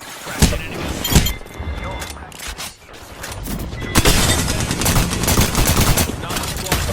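Rapid enemy gunfire in a video game, dense bursts of shots and impacts rattling on almost without pause, loud and close, with a voice talking over the action.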